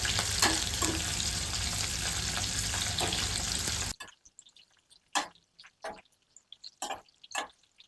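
Onions frying in oil with mustard seeds for a tomato curry, a loud, steady sizzle for about four seconds that stops suddenly, then a few scattered soft clinks and scrapes in near quiet.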